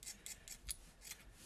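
Scissors snip through synthetic wig hair in a quick run of about six crisp, close cuts with short rests in between, and no one speaks.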